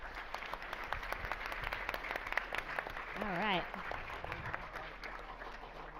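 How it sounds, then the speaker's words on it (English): Audience applause for panelists and MCs at the close of an AP Ambassador Assembly, a steady spread of clapping running under speech throughout, with a brief voice rising in pitch midway. "let's give all of our panelists and our MCs a round of applause"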